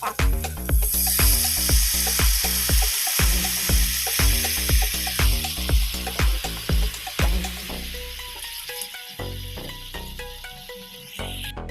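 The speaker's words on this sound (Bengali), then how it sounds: "ভেজে দেবো দেখো বেগুনগুলো" Eggplant slices fry in a pan with a loud, steady sizzle that runs the whole time. Rhythmic tonal sounds are layered over it, and the frying fades slightly near the end.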